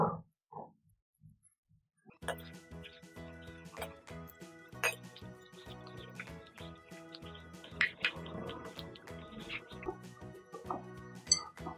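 Rice flour dough for Telangana sarva pindi is mixed by hand as water is added little by little. After a quiet start, soft wet squishes and light clinks against the bowl follow in an irregular, close rhythm.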